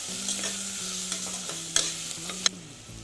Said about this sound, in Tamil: 1/2 ஸ்பூன் மஞ்சள் தூள், கரம் மசாலா 1/2 ஸ்பூன் சேர்த்து வதக்கிக்கலாம்.